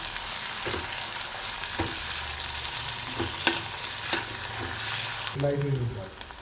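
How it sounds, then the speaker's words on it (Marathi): Chopped tomato and finely cut green chili stirred in hot oil with crushed garlic for stuffed bitter gourd, a soft steady sizzle punctuated by spoon scrapes and taps against the pan, with a brief voice near the end. "टोमॅटो टाकून घ्यायचा आहे आणि बारीक चिरलेली मिरची. हे पण चांगलं परतून घेऊया मिनिटासाठी."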